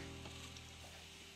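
Donut dough sizzles steadily in hot oil, a soft, continuous frying crackle heard close up with no talking.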